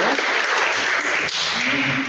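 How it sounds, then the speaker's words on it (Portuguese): Applause for a woman at a church leadership group meeting, a close, dense burst of clapping that runs continuously, with a brief dip partway through and a voice faintly under it near the end. "Uma salva de palmas para ela aqui"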